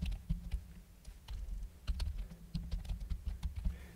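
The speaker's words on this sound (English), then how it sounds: "Next, we're going to type in time zone" Fingers tap out a setting on a computer keyboard, the keystrokes coming in quick, uneven runs with short pauses, close and fairly quiet, and no voices over them.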